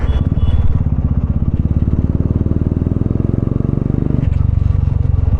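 A Royal Enfield Bullet 350 thumps along on a test ride after servicing, its single-cylinder engine beating loud and close in a rapid, even rhythm that briefly shifts in pitch near the end.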